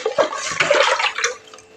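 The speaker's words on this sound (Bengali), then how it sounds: "এই যে দেখো, এক বাটি জল নিয়েছি।" Water poured into a bowl of rice, a short splashing gush that tapers off within two seconds, close and alone.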